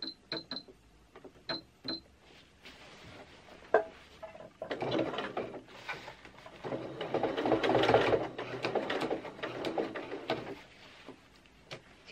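Sewing machine fitted with a blind hemming foot runs along an existing seam line on a skirt with a bias-bound hem; a few light clicks, then a steady, moderately loud stretch of stitching before it slows.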